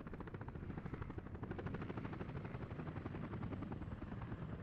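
A second firefighting helicopter arriving in the video game Workers & Resources: Soviet Republic, its rotor beating in a rapid, even thump that stays steady and moderately loud throughout, with no other sounds over it.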